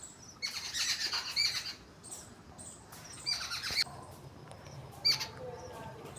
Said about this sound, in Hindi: ये मेरे यहाँ नीम का पेड़ है, जिस पर बहुत सारे पक्षी आके बैठ चुके हैं